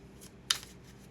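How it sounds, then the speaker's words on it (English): Tarot cards being shuffled by hand, a quiet papery riffle with one sharper flurry of card snaps in the middle, close and soft, with no talking. "let me finish my shuffling here"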